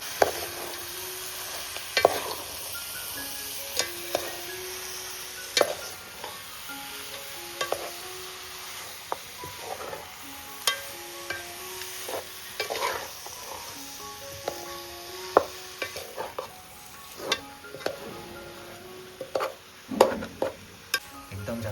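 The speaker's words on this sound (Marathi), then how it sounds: "आता आपण गावठी चिकन जे आहे ते फोडणीवरती टाकून घेतोय" Village chicken pieces dropped into a hot spiced tempering in a pot, stirred with repeated spoon scrapes and knocks over a moderate sizzle, with soft background music throughout.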